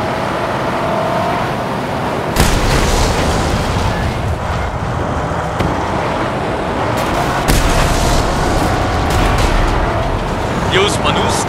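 Cars being smashed apart in the Mad Max video game, with a dense, continuous roar of engines, crashes and booming impacts, sharp hits breaking through at intervals, under a voice talking.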